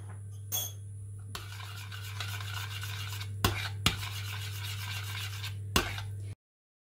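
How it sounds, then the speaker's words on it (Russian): Cream with vanilla seeds being stirred in a pot, a steady soft scraping rasp that runs throughout, broken by a few sharp knocks against the pot, with a constant low hum underneath. "Тщательно размешиваем."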